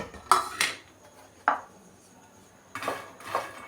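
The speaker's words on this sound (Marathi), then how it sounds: "मी त्याच्यात मखाना टाकते." Dry makhana fox nuts drop into a hot, empty pan in a few quick rattling bursts, a scatter of light clatters followed by a single knock and a last shake, close and fairly quiet.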